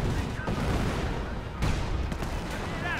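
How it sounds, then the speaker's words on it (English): Gunfire from an MG42 machine gun in the Company of Heroes strategy game, dense rattling bursts running continuously under battle noise and other game sounds, with a voice talking over it. "MG42 finding a good angle right there"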